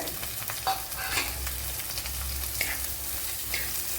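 Garlic and chilli sauté in a pan for a Kerala dried mackerel curry, a close, steady sizzle and frying crackle broken by a few scraping stirs, with no talking.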